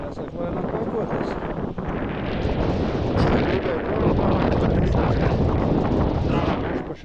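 Strong wind buffets the microphone on open water during a boat outing, a loud continuous broadband roar with gusty swells across the whole stretch and no voices.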